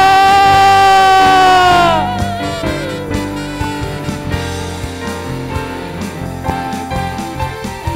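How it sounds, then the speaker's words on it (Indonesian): A church congregation at a Sunday worship service cheers and whoops, with scattered shouts and clapping rising as a sustained sung or shouted tone fades out, the crowd sound continuing loud and close. "Berikan sorak-sorai dan tepuk tangan yang meriah bagi Tuhan kita"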